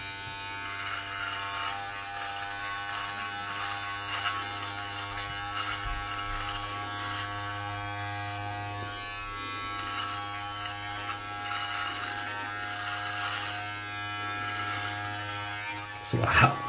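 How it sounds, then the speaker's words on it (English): A HUMMINGBIRD MK17 DualPro electric foil shaver runs close by, shaving hair off the sides of a head with a loud, steady high-pitched buzz that holds for the whole stretch, ending in a brief handling clatter. "So we're going to shave first, shave everything off, and including our hair on the side"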